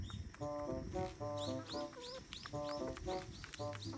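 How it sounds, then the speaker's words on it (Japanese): Silkie chickens at their evening feed, with repeated clucking and short harmonic calls close by, mixed with quick sharp bursts that could be small sneezes, steady over about four seconds. "鶏のくしゃみ。"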